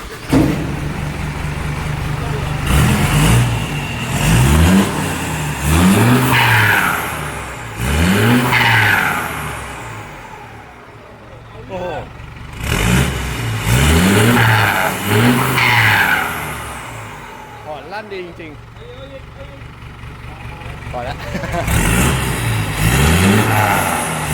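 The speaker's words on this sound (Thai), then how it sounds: "ลองฟังซุ้มเสียงกันครับ" An Isuzu Elf NPR115 truck engine revs hard several times through its exhaust, loud and close, rising and falling in bursts with short idle gaps between.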